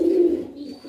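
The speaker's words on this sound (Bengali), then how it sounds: "এটা সবসময় কোকো করে ডাকতে থাকে অনেক।" A koka pigeon, a fancy pigeon breed kept in Narayanganj, gives a close, steady low coo that swells and fades in under a second.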